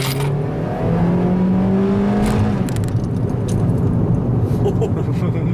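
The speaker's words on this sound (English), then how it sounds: "That's a nice sound of that engine." A 2012 Honda Civic engine accelerates hard, its rising tone climbing steadily for about two seconds before easing off under the car's running noise, with people talking inside the car.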